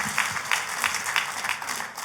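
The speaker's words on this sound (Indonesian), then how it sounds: "Ayo kita kasih tepuk tangan yang meriah buat Tuhan kita." A church congregation applauds for God with steady, dense clapping that fills the room at a moderate distance, holding an even level throughout without a voice over it.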